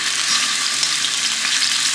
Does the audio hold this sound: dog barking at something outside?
no